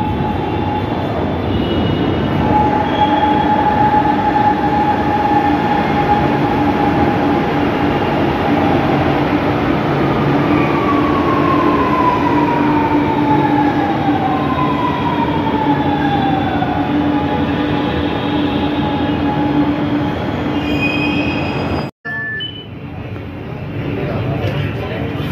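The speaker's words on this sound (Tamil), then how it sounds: "இதுதான் மெட்ரோ ட்ரெயின் பாருங்கள், இவ்வளோ கம்பீரமாக அழகாக வருது." A metro train pulls into a station with a long, loud, steady rolling rumble and rising whine that ends in an abrupt thud as it stops, and people talk over it.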